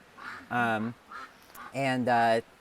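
Breeding flocks of ducks on a farm quack in loud, repeated bursts, a pair of calls then another pair, fairly close with soft background noise between.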